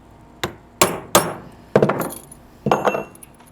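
Aluminum ferrule being crimped while repairing a Pelican 10E boat seat frame, a handful of sharp metallic tool strikes in an uneven rhythm, some landing in quick double hits, close and clear.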